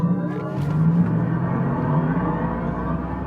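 A Mercedes EQE 53 AMG electric car under launch control, brake and throttle held together, builds a steady, loud electric whine and low rumble that stays close and sustained with no talking.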